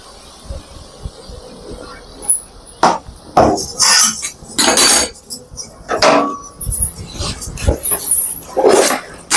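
A spoon clatters and scrapes in a pan as lemon is mixed into chevda, irregular metallic clinks and knocks, fairly loud and close with short gaps between them.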